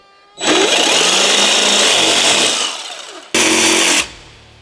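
A loud, close power tool cuts out a corner for a kit install on a 2014-2023 Street Glide motorcycle, with one long, steady burst tapering off and then a second, shorter burst.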